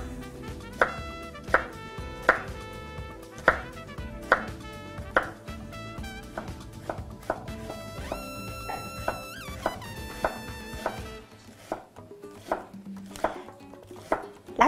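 A knife chops onions on a board in steady, evenly spaced strokes, crisp and close, with a brief clink of cookware in the middle and faint background hum.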